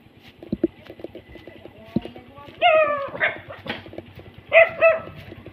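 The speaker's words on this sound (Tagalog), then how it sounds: "nakahol na naman yung mga aso, guys" Dogs bark in short, sharp yelps, several barks clustered in two bursts at moderate distance, over a quiet background with a steady low rhythmic ticking.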